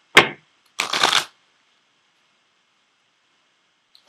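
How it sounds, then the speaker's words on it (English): Tarot cards from an Ascended Masters deck are shuffled in two short, crisp riffling bursts, close and clear against near silence, followed by a faint tap at the end. "I am going to pull a card from the Ascended Masters deck for you as well"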